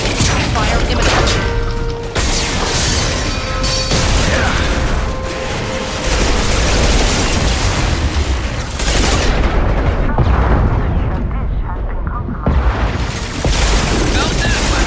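Weapons fire in Mass Effect 2 keeps up a loud, dense barrage of shots and blasts with mechanical clatter, booming impacts and brief gaps, continuing almost nonstop with voices mixed in.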